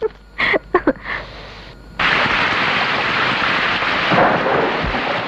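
Steady heavy rain pours down with thunder rumbling through it, following a few brief bumps at the start; no one speaks.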